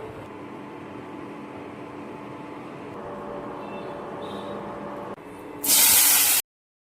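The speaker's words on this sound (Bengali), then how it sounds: "আর এখন আমি একটু পাঁপড় ভাজবো আলু ভাজবো" Papad and potatoes frying in hot oil give a steady, close sizzling hiss that swells slightly, then ends in a brief louder burst of spitting before cutting off.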